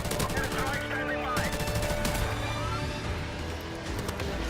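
AK-74U gunfire in Modern Warfare Remastered, with rapid automatic bursts cracking loudly and continuously up close, layered with game effects.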